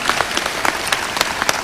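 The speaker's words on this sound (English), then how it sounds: "I want to give another round of applause to our speaker today, Ms. Radigan" Audience applause for a speaker at a freshman event, many hands clapping in a lively patter with sharp individual claps standing out, close and fairly loud.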